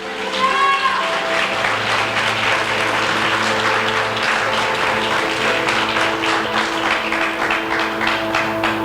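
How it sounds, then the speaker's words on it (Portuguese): A church congregation claps in praise during a sermon, sustained applause spreading through the room with a low sustained tone beneath it and a brief voice near the start. "Você pode aplaudir, glorificar Jesus?"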